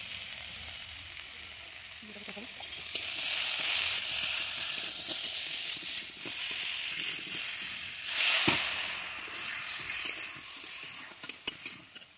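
Chilli, cumin and turmeric sizzle and fry in a pan with meat, a steady hiss that swells and fades with occasional stirring scrapes and clinks, no voices.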